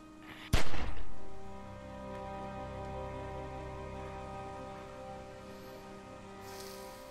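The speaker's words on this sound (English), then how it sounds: "Oh god, that gunshot." A single sharp gunshot in The Walking Dead video game, loud and close, followed by a decaying echo over a steady low ambient hum.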